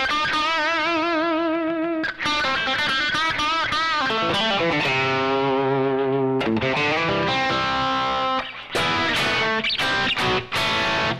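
A custom electric guitar with a slightly hot pickup plays continuously through effects, giving a distorted, biting tone with sustained chords and ringing notes, loud and close throughout.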